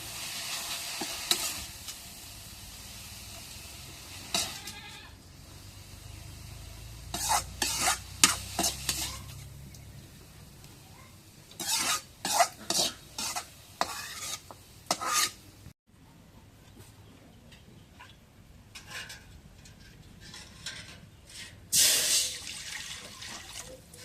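Greens (shak) frying in a pan while being stirred, a soft continuous sizzle broken by repeated scraping strokes of the spatula, some in quick bursts, close and fairly loud.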